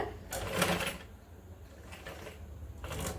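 A sewing machine stitches heavy non-woven cloth for a tote bag in short bursts of rapid mechanical whirring and clatter, pausing between runs, heard close up.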